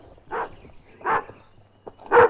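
A German shepherd barks three times in a radio play, each bark full and fairly close, with short gaps between them and no other sound over it.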